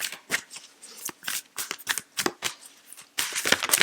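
Tarot cards being shuffled by hand in a series of quick papery riffles and slaps, close and crisp, ending with a longer dense burst of shuffling.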